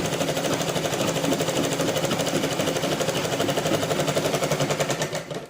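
A sewing machine stitching along a blouse edge runs close and loud in a continuous rapid mechanical chatter, the needle's even hammering rhythm holding steady before slowing at the end.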